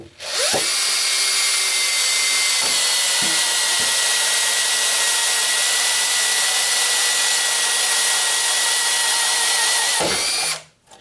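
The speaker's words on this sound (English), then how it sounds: "Now let's try and punch some holes through this sheet metal with some thin wall hole saws" A Bosch DDB181 compact 18V cordless drill drives a thin-wall 3/4 inch hole saw through sheet metal, a loud steady whine running about ten seconds with brief catches near the start, then stopping abruptly.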